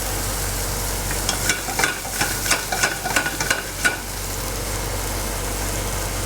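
Shallots sizzling in a hot pan with a few stirring scrapes, a steady close frying hiss under soft clatter, no talk.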